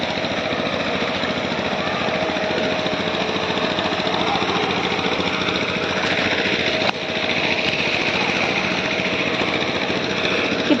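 A tractor engine drones steadily in a farm field in rural Konkan, a loud continuous mechanical hum with a rapid knocking pulse that holds unbroken for about eleven seconds, briefly dipping near the middle.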